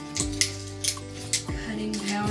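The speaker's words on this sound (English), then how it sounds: "I think I need better scissors than these." Scissors snipping through material, five or six sharp metallic cuts spaced about half a second apart, close and crisp with ringing blade tones between cuts.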